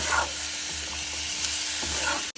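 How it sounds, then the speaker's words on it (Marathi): Sprouted mung beans and chopped onion stir-fried in a pan, a steady close sizzle with scraping spatula strokes stirring the mixture, no talk. "आपण कांदा आणि मूग मिक्स करून घेऊ सगळीकडे आणि मूग आणि परतून घेऊ"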